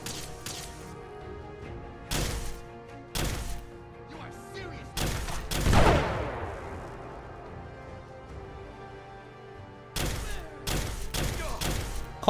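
Gunshots from a weapon in heavily modded Fallout 4, a series of sharp, separate blasts with uneven gaps between them. A louder crashing impact lands midway, and a final cluster of shots follows after a quiet stretch.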